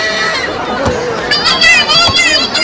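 Dense crowd hubbub at the crowded Mhasa fair (jatra), a loud continuous babble of many voices close around, with a clearer nearby voice rising over the din partway through.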